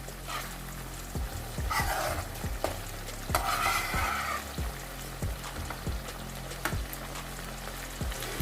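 An omelette fries in a pan with a soft, constant sizzle. Repeated sharp utensil knocks and scraping stirs come up close, along with a couple of brief hissing bursts.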